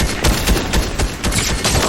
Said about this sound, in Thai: ยิงค้างไว้เลยครับผมไม่กล้าหยุดยิง